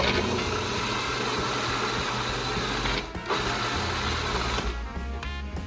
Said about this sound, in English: let's throw them in the processor and whiz them up